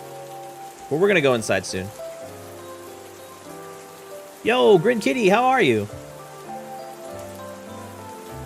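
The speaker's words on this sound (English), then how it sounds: "Why is it raining inside?" Steady rain patters outdoors as a continuous hiss under two short stretches of a person talking.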